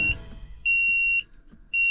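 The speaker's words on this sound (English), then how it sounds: "see if we still get the alternator's angry alarm" A loader's alternator warning alarm gives three short, shrill electronic beeps separated by brief pauses, close and alone.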